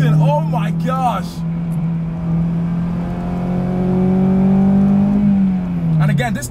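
A modified Acura RSX engine revs hard as VTEC engages, a loud sustained tone climbing steadily then dropping off, with a voice speaking over the start and end.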